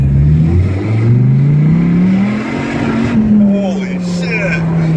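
Dodge Viper sports car accelerating hard from inside the cabin, a loud engine drone rising steadily in pitch then easing at a shift, with voices talking over it.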